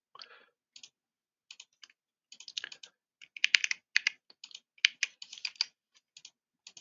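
Typing on a computer keyboard while entering a tracking number, irregular bursts of close, crisp key clicks with short pauses between, quiet and without talk.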